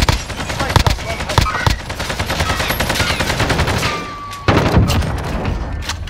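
Rapid bursts of video game gunfire, loud and close, with sharp shots and sustained automatic fire through most of the stretch, a short lull, then more shooting.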